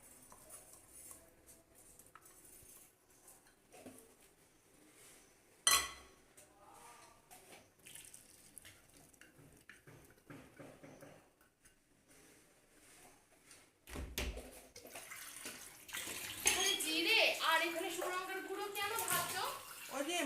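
Soaked sago pearls are rinsed with water in a bowl, with wet sloshing and splashing that grows louder and busier toward the end, and a voice talks intermittently.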